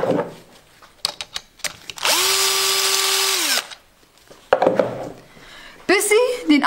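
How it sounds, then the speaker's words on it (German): A power tool whirs steadily for about a second and a half while driving a longer M8 bolt through a thread during an Audi A2 clutch job, set among clanks and handling noises of metal parts nearby. "Man nimmt sich eine etwas längere M8er Schraube und schraubt die hier durch das Gewinde durch."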